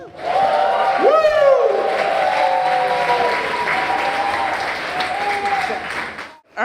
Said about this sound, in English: Give Chris a huge round of applause!